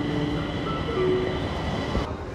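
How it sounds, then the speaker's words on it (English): A train in China rumbles steadily nearby, with a low rolling roar, faint clatter and a thin brief squeal in the middle. "So here's the train."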